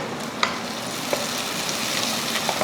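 Steady sizzling of shallots frying in oil with curry leaves, mint and coriander for chicken salna, a continuous crackling hiss with a few sharp pops and light stirring clicks, close and fairly loud.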